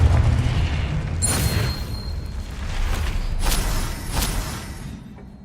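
Fire-spell explosions in Hogwarts Legacy, a game: a few deep booming blasts with sharp bursts around one and four seconds, rumbling and then fading, with no talking.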